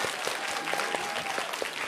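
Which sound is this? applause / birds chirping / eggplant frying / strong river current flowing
applause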